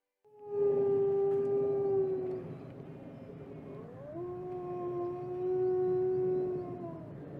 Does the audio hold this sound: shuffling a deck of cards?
no